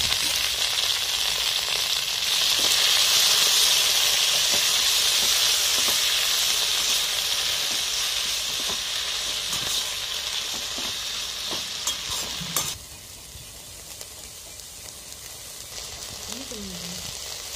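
Mint leaves and garlic cloves sauté in a hot pan with a loud, steady broadband sizzle and occasional stirring scrapes; the hiss drops sharply partway through and continues more quietly afterward.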